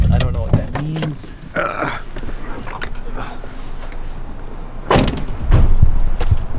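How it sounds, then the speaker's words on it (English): The door of a 240 car is pushed shut with a couple of sharp thuds late on, after quieter knocks and handling noises, with voices nearby. "Why are your doors the hardest things to close?"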